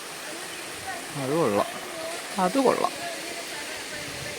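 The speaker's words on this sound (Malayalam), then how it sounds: "ഇവിടെ വെള്ളമൊക്കെ ഒഴുകി വരുവാണ്." Water tumbling down at Palaruvi waterfall gives a steady, broad rushing hiss in the background while someone briefly speaks twice over it.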